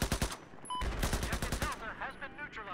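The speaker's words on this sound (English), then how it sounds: "Just laying down the suppressor fire constantly" Rapid machine gun suppressing fire in Battlefield 4 on the Gulf of Oman map, a loud continuous burst of shots in quick succession with a short gap, then more distant gunfire and battle noise under a voice.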